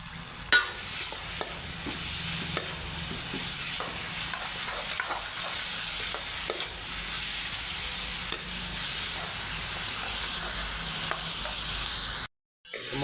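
Chilli powder, turmeric and salt sizzle and fry in a hot pan, a steady crackling hiss with occasional scraping stirs, close up and without talk.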